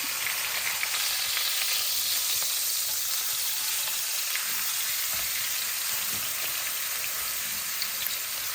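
A flipped pot roast sizzles steadily in a hot pan, a dense, close frying hiss with small crackles running throughout and no voices.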